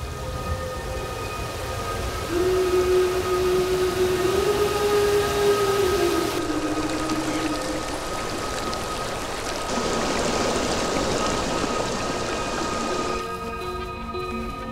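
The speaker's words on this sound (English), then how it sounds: "Billions of gallons pour from the hillsides." Billions of gallons of fresh water pouring from Colombian hillsides, a loud steady rushing stream with a rising and falling tonal wail over it partway through, no voices.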